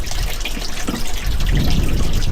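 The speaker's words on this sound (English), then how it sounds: "Got to turn the hose water on." Water from a garden hose runs steadily beside a 50HP Mercury two-stroke outboard boat engine, a continuous close splashing rush with no talk.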